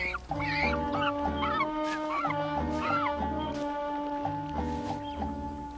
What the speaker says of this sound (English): Cormorants abound in the village.